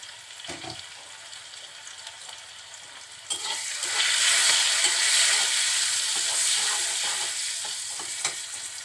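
Turmeric and salt stirred into hot oil, with a soft background sizzle that swells louder and brighter partway through and keeps frying steadily, with faint scraping strokes, close up.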